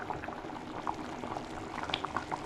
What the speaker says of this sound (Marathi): आपल्या खेकड्यांना मस्त वेगळी उकळी आली आहे बघा